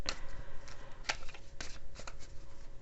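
Affirmation-style oracle cards being shuffled by hand, a run of quick papery riffles and soft slaps close up, with a steady faint hum behind them and no voices.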